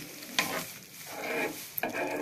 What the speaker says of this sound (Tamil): ஒரு 10 நிமிஷம் நல்லா கொதிக்கட்டும்